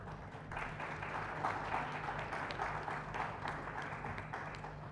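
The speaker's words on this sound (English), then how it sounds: "So please have a huge round of applause for these participants" An audience at a foundation day debate applauds the participants, a steady even wash of clapping from many hands that holds throughout without a break.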